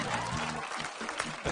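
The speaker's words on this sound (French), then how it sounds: "Vous pouvez les applaudir très très très fort." A television studio audience applauds in a dense, steady burst of clapping, moderately loud throughout the short stretch.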